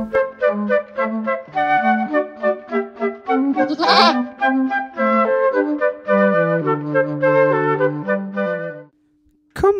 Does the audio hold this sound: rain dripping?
no